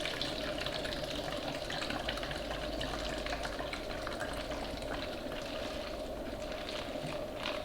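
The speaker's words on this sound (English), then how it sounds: "We're gonna go ahead and fill this up with water." Tap water filling a metal gas tank, a steady rushing, hissing flow with a hollow resonant tone, constant and moderately faint throughout with no talking.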